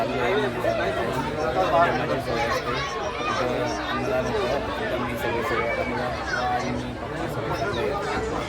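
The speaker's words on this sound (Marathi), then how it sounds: "गर्दी भरपूर आहे" Dense chatter from a large crowd at a busy temple, many overlapping voices forming a steady, close hubbub throughout.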